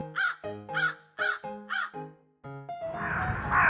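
Four loud, harsh crow caws in a steady rhythm, close and clear, followed by a burst of noisy chatter.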